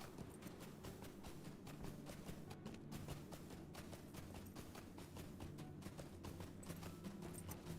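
Hooves of a war steed clip-clop in a steady, continuous rhythm in Lord of the Rings Online, set over a constant game music bed, with no voices.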